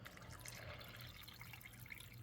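Water runs from a tap into cans while winter chili is being made. The flow is faint and steady with a soft splashing hiss over a low hum, and no one speaks.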